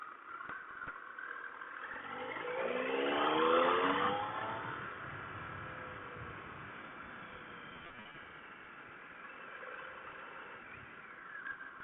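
A motorcycle on a road test passes with a rising engine drone that swells to a peak partway through and then fades into steady road and engine noise.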